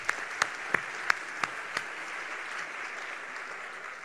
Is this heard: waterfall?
no